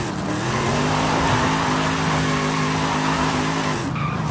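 A supercharged iron-block LS Nissan S14 240SX drifts in the video game Forza Horizon 5, sustained loud tire squeal over a roaring engine for about four seconds before cutting off.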